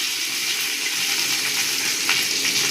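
Constant sizzling and crackling of mustard seeds popping in hot oil, a steady frying hiss with a few sharper pops.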